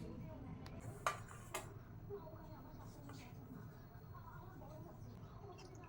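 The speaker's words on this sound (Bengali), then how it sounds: "আমি আগে গুড়টা ছেঁকে নিই" A metal sieve and bowl clink and knock while jaggery is strained in a home kitchen, a few faint close taps over a low steady background with a voice nearby.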